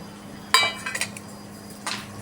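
Stuffed okra (bharli bhendi) tipped into a kadhai coated with two spoons of oil: one sharp metallic clink followed by a few lighter knocks, then a last soft clatter, all close and alone.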